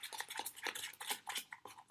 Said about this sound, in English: I'm going to mix it up in my cup with